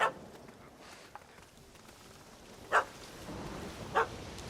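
Puppy barking in The Witcher 3: Hearts of Stone, two sharp barks standing alone at mid distance over a quiet ambient bed.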